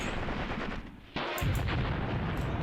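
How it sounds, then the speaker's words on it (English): In the Graviteam Tactics war game, a grenade goes off with a sudden sharp, heavy blast after a brief lull, followed by continuing loud battle noise, with no talk over it. "That's a grenade."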